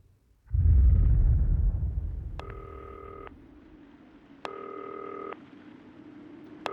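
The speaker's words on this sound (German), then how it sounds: "Telefon klingelt auch wieder." In the video game Not For Broadcast, a telephone rings in two separate electronic bursts. Each burst lasts about a second, over a steady stormy rumble of rain that follows a deep boom at the start.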